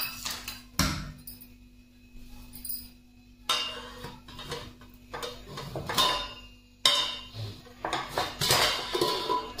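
A freshly baked chocolate cake is worked out of a metal baking pan, with sharp metallic clanks and scrapes of pan and knife in bursts separated by brief quiet pauses.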